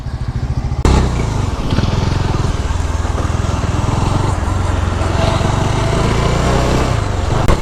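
A Bajaj Dominar 400 motorcycle engine runs continuously while riding, a loud, steady rumbling drone that kicks in sharply after a brief quieter start and holds level throughout.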